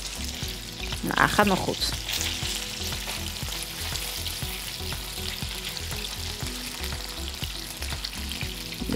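Slavinken, bacon-wrapped meat rolls, fry in a pan with a steady, loud sizzle throughout and a brief burst of stirring or turning near the start, while a voice speaks briefly over the hiss.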